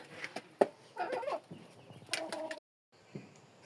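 Backyard chickens cluck softly and intermittently, with one hen settling to lay an egg; brief, fairly quiet calls with a short silent gap near the end.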